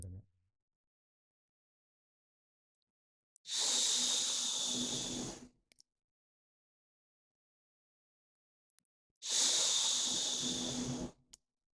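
A person breathes out hard through the nose with teeth together and mouth closed as a breathing exercise: two long, steady, hissing exhales of about two seconds each, separated by silence.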